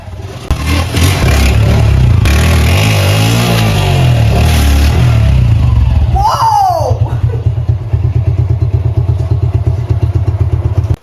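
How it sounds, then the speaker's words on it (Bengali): A motorcycle engine idles and revs loudly up close, then rolls over a OnePlus 9R phone on the ground with a scraping crunch before settling back to a throbbing idle; a voice speaks briefly. "এই ফোনটি এখন এখানে রাখবো, রেখে এর উপর দিয়ে বাইক চালাই দিব।"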